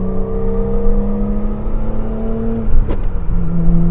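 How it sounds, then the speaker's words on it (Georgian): A BMW M5 engine with individual throttle bodies holds a high, steady, droning rev note up close, with a brief sharp burst partway through and no talking. "ეს ძრავი, რომელიც ინდივიდუალურ დროსელებზეა, საოცარ ხმას გამოსცემს"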